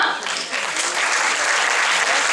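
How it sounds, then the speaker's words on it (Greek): Crowd at an award ceremony for a football goal contest bursts into brief loud applause, dense clapping that holds steady, with a voice faintly audible beneath it. "για να τους δώσετε ένα μεγάλο χειροκρότημα"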